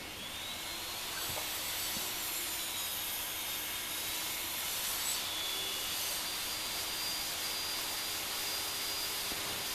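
A table saw cuts a side rail clamped in a tenon jig, giving a steady, continuous whine with a high ringing tone and some broadband rush, moderately loud and unbroken for the whole stretch with no talking.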